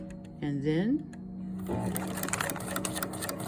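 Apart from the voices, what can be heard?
sewing machine stitching a feed sack tote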